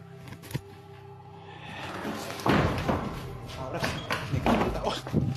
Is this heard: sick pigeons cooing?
no